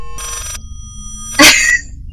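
A telephone rings in the horror video game Layers of Fear: a short bright ringing burst, then a louder clattering crash a moment later, with quiet room tone in between.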